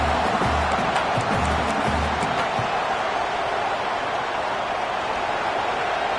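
College football stadium crowd at TCU vs UCLA, roaring steadily and loudly as the home fans back the defense late in the game. The wide, continuous wall of noise persists throughout, with a few low thumps near the start.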